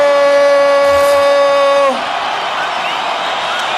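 A boxing arena crowd cheers for Miguel Cotto as he enters the ring before his fight with Joshua Clottey. A loud sustained horn-like tone gives way to a broad, roaring crowd noise.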